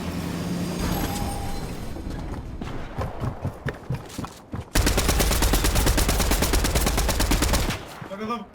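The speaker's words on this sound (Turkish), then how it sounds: "Sen nereye pompalıyla vuruyorsun kanka?" Gunfire in the video game Fortnite, shotgun blasts among dense rapid volleys, loud and close, with a long sustained burst of shots in the second half and players talking in Turkish underneath.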